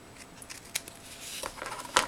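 Scissors snip through crooked paper while trimming a handmade Mrs. Claus gift card holder, a few quiet cuts then a sharper cluster of close snips near the end.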